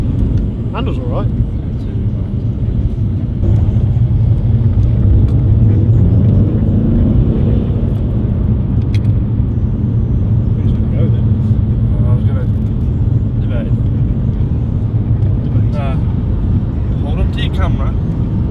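An Audi A3 with newly replaced coilovers driving along a road, a loud continuous engine and tyre rumble heard from inside the car throughout, with occasional faint knocks.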